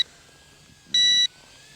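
A short, bright electronic beep tone from an RH807 Whoop quadcopter sounds once, about a third of a second long, over a faint background hum.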